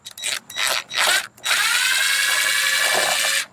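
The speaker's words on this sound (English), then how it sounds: "it doesn't take much to drill them out to fit this rivet right here" Power drill boring out undersized screw holes in an aluminum jon boat hull to fit rivets: a few short whining bursts, then one long steady close drilling run.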